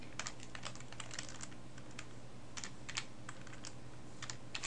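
Steady keystrokes on a computer keyboard while entering text in Photoshop, with quick, uneven clicks and occasional louder taps over a faint background hum, no voices.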